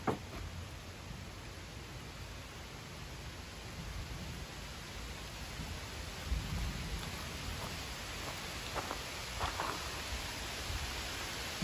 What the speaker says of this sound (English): Looks like we're going to be working in the rain